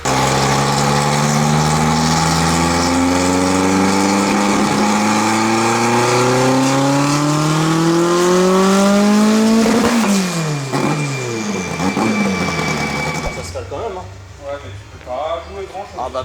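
A Renault R5 Turbo engine runs hard during tuning, revving steadily upward with a loud, close rising drone, then dropping back and settling as the revs fall. Voices are faintly present beneath it.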